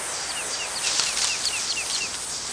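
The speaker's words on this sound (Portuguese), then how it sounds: "Agora junta o riacho com as cigarras e vai ouvindo cantos passarinhos." Birds sing in repeated short whistled chirps over a steady hiss of cicadas and a running stream, the calls fairly clear and mid-distance against the continuous outdoor background.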